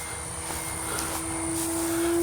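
A Durafly Tundra V3 RC airplane with its electric motor whining steadily, a bright sustained tone that swells slightly louder as the plane runs on its main gear near the ground.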